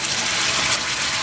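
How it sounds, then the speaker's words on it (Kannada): Water pours into a mixer jar in a steady, close, fairly loud gush lasting the whole moment, with no voices. "ಸ್ವಲ್ಪ ನೀರು ಹಾಕಿ ಹಾಕ್ಕೊಳ್ತಾ ಇದ್ದೀನಿ ಆ ಮಿಕ್ಸಿ ಜಾರಿಗೆ"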